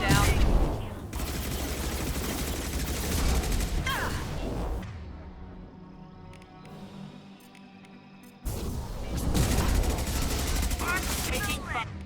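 Rapid bursts of gunfire and weapon blasts from the video game Mass Effect 2, loud and dense in two long stretches with a quieter gap between.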